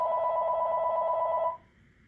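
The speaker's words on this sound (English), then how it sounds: "Oh, got a phone call." A telephone rings with an incoming call, one steady electronic ring lasting about a second and a half before cutting off, fairly faint and heard alone in a quiet room.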